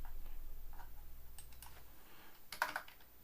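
Light typing on a computer keyboard, a few soft scattered keystrokes and then a quick close cluster of clicks, quiet against a low hum.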